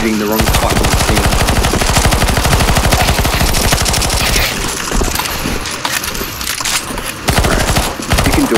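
Continuous loud automatic gunfire in a CS2 Zombie Escape match, rapid dense rattling shots from several weapons layered into a relentless barrage with brief dips, mechanical clatter and faint voices beneath.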